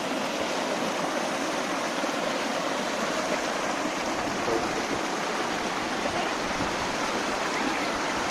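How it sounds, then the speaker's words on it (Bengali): Water pours down heavily like a small waterfall at a village fishing spot in the Sundarban area, a dense, unbroken rushing roar that stays loud and even throughout. "পানির মনে হচ্ছে ঝর্ণা থেকে পানি পড়তেছে অনেক"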